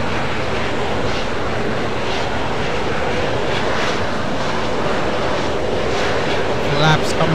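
A steady, loud roar of an L-39C Albatros jet engine on takeoff and climb-out in Flight Simulator X, with broadband rushing noise held constant throughout.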